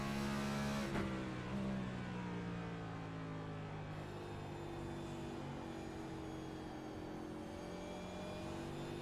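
Sustained high-RPM race car engine whine heard from the cockpit of a NextGen stock car at Gateway, a steady loud harmonic drone holding pitch through a long backstretch, with no talk.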